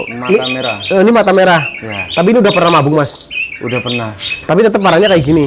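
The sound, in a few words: jalak suren cremino (pied starling) calling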